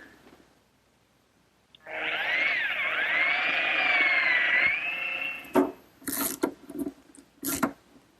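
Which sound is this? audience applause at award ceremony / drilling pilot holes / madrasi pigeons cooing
drilling pilot holes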